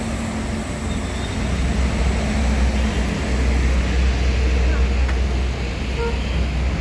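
A long-distance Artista Super VIP bus on an Indonesian road passes close by, a loud, steady engine and road rumble that holds throughout.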